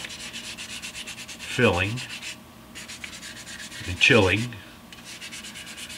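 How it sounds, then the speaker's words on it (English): Hand sanding on the wooden body of a G&L Tribute Series Fallout guitar: a steady rasping scrub with two stronger, louder strokes standing out, close by, with no talk over it. "gently sanding away here"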